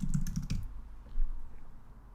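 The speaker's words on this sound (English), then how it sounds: "Maybe let's type in like landscape." Fingers type on a computer keyboard in a quick burst of close, light key clicks, then the tapping stops, leaving a quiet room with faint background noise and a single soft thump.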